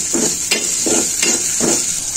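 Onion and green chilies fry in oil with a bright, steady hiss, as about four rhythmic stirring scrapes sound close and fairly loud, with no speech.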